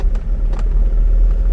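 An Alfa Romeo 1750 GTV rolls along on the road with a steady low engine rumble and road noise, a few faint higher rustles riding over the continuous drone, heard from inside the cabin.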